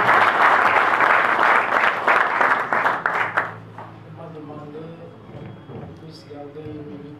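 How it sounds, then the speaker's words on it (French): Loud congregational applause at a Congolese church gathering in South Africa, dense clapping for about three and a half seconds before it cuts off, followed by softer murmuring and tonal background sounds. "please put your hands together for the Lord"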